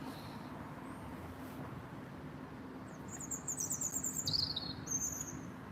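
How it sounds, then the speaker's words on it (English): Small birds nesting in riverside trees on the River Bure at Wroxham chirp and twitter in short bursts over a faint, steady outdoor hum, coming in during the second half and sounding moderately distant. "We've got some birds nesting behind us, as you can probably hear,"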